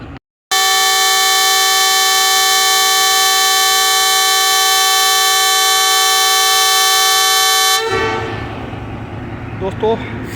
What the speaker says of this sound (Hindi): सिग्नल डाउन हो चुके हैं और डिपार्चर विसल भी हो चुका है जी 9 ऑफ इलामा इकबाल एक्सप्रेस का